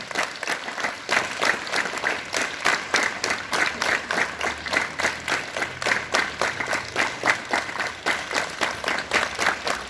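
Students at a school morning assembly clap together in a steady, rhythmic beat, many hands striking in unison at a regular pulse over ten seconds.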